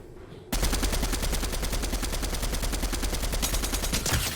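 Rapid automatic bursts from an MK assault rifle in Fortnite, a loud continuous stream of evenly spaced shots starting abruptly and running without pause.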